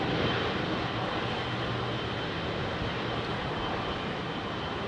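A Helvetic Embraer E-Jet departs runway 27R at London Heathrow, its steady, loud jet roar filling the scene without a break and with no voices over it.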